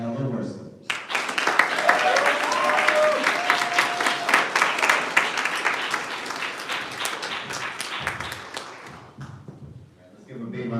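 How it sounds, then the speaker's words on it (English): Graduates at a conservatory graduation ceremony draw a full, sustained round of audience applause with dense clapping and some crowd noise, rising quickly and tapering toward the end, with brief speech at the start and finish. "Let's give a big round of applause to all of"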